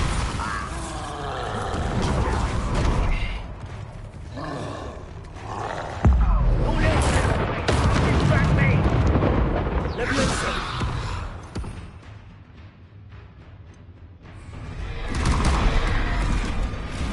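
Spell explosions from Confringo and Bombarda in a Harry Potter video game: booming blasts and crackling mechanical clatter stretched over a long, dense stretch, with voices shouting throughout.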